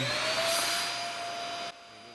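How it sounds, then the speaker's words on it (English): A Dyson DC50 vacuum cleaner runs with a steady high-pitched whine and a tonal hum, then drops abruptly to a quieter level near the end, with no voices. "We have a Dyson DC50 here. When we turn this on,"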